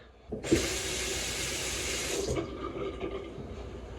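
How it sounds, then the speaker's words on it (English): Warm tap water runs steadily from a faucet for about two seconds while a face is washed with a washcloth, then cuts to softer trickling and splashing, close by. "I'm going to use a washcloth with warm water to wash my face"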